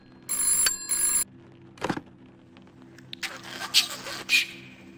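A telephone bell rings in a 1990s-set PC horror game, Chasing Static: two loud, close rings of about a second each, followed by softer scattered thuds and rustles.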